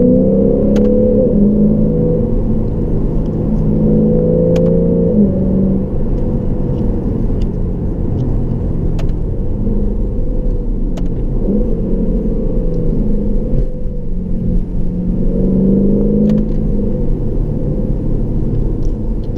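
Lexus RCF heard from inside the cabin while accelerating and downshifting, a deep continuous engine rumble that swells and eases through gear changes, loud and steady with no talk.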